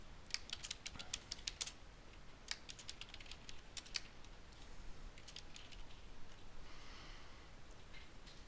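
Quiet keyboard typing in quick clusters of soft clicks with short pauses between them, close and faint, with no one talking.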